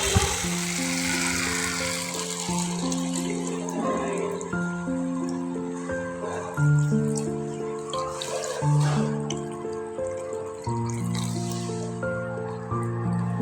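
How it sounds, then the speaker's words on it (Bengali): Potatoes sautéing with softened tomatoes in a pan give a steady sizzle and fry throughout, partly masked by louder background music. "এবার আলুগুলো দিয়ে ভাজা আলুগুলো দিয়ে আবার কিছুক্ষণ কষাবো"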